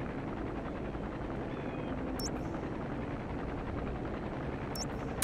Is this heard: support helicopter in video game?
yes